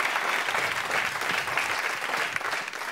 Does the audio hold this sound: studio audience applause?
yes